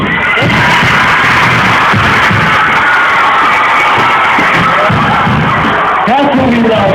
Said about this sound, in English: I want to see you get up and scream